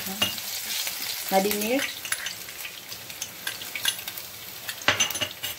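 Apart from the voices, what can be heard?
ginger and garlic paste frying in hot oil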